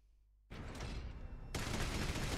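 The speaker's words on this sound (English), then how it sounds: "The rockets launch" Rockets launching in the video game The Hundred Line: after a quiet start, a sudden roaring rush of exhaust bursts out and swells louder with a second surge, filling the rest of the moment.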